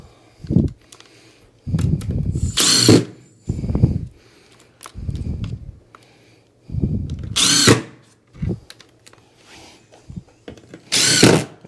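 A power drill drives screws into a stair-nose transition strip for luxury vinyl plank flooring, in several short loud bursts of whirring separated by pauses, close and with no talk.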